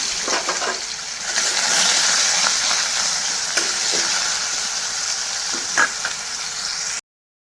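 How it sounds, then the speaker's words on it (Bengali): Potato pieces rubbed with turmeric and salt fry in a pan, giving a continuous bright sizzle with a few louder splattering bursts and clatters, with no talking. "আলুগুলো একটু ভেজে নিই"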